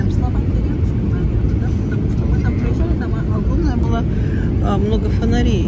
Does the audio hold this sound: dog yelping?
no